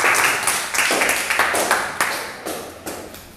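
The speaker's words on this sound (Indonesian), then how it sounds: "Oke, beri tepuk tangan untuk kelompok 2." A classroom of students claps for a presentation group, a short burst of near, fairly loud hand claps that comes in uneven waves and slowly fades.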